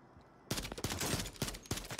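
Rapid gunfire from the video game Warzone 3 erupts after half a second of near silence, a loud, dense run of overlapping shots with sharp individual cracks standing out through the burst.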